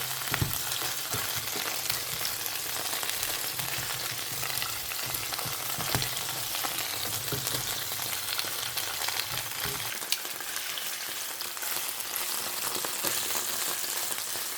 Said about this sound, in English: There's the peppers, they're frying up nice.